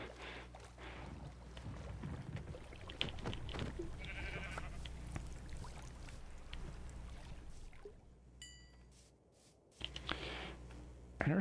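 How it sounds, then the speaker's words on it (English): Sheep bleating in a survival video game, heard over a steady ambient game background with faint scattered sounds, the bleats fairly soft and brief, followed by a short quiet gap and a sudden return of sound. "Sheep."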